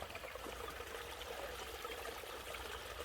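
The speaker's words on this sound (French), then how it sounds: "au bord d'un petit ruisseau" A small stream in mossy woodland flows with a soft, steady trickle and babble, faint and continuous with no voices.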